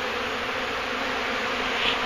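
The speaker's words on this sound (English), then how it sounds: "that's how many hives are around me right now, or how many bees" A large swarm of honey bees buzzes steadily during a hive removal in Wellington, Florida, a dense continuous drone surrounding the listener without a break.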